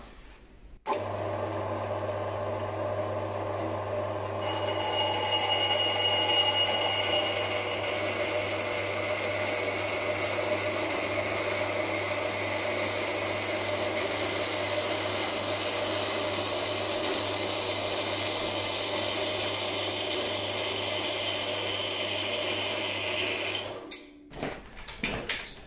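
A 4x6 metal-cutting bandsaw runs dry through metal with a light feed, a steady motor hum and whining blade grind held evenly for about twenty seconds before stopping.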